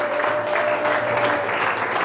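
A church congregation claps and cheers in a steady, dense burst of applause after a Scripture reading, with a sustained tone running under the noise for the full two seconds.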